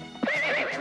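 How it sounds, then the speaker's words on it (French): Thoroughbred racehorse giving a short, shrill neigh, a quick wavering whinny rising then trembling, close and alone, lasting under a second. "Ce sont des chevaux de race, des purs sang, les plus rapides au monde."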